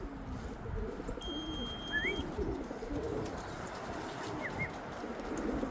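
Racing pigeons coo at a loft as birds return from a 281 km race, with soft low calls over a steady outdoor rumble and a few faint higher whistles.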